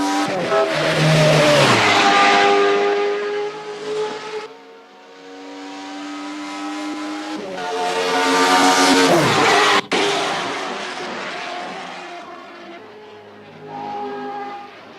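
Indy-style race car engine in a racing video game, screaming loud and close with rising and falling revs through gear shifts, brief tire squeal, continuous across the span.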